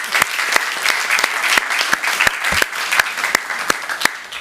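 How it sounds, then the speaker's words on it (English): An audience at a Burbank city council meeting claps steadily for several seconds, a moderately loud, even patter of many hands with no speech over it. "everyone give her a round of applause"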